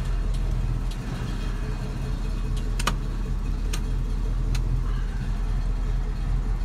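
A 1967 Ford Mustang fastback with the S-code 390 GT V8 and four-speed idles steadily, a deep, even rumble held close throughout, with a few light ticks and clicks over it.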